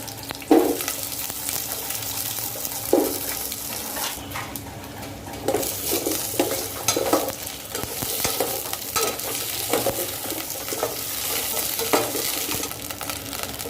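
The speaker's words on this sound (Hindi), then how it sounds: "अब ये गर्म हो जाएगा तो इसमें हम ये मूंगे की फली डाल के थोड़ा इसको रोस्ट करेंगे।" Moringa drumstick pods roast in about two spoons of hot oil in a pan, giving a steady close sizzle with occasional stirring scrapes and knocks against the pan, no speech.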